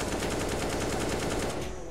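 An AK rifle fires a continuous spray in the video game CS:GO, a loud, rapid, evenly spaced burst of shots with no pauses.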